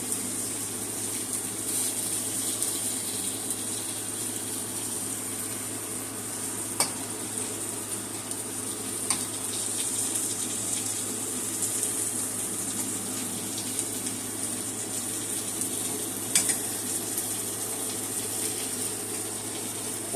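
Eye round steak browning in a hot pan, a steady close sizzle and crackle running throughout with a few sharp ticks and pops.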